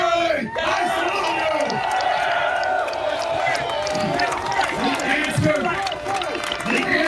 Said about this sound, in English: I don't like it when you're cheering me coming up here